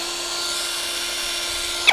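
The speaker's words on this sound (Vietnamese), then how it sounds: "Khoan Akuza, động cơ không chổi than, 3 chức năng nhé." An Akuza brushless cordless drill runs at a steady high-pitched whine for two seconds, close and even, with a brief click at the end.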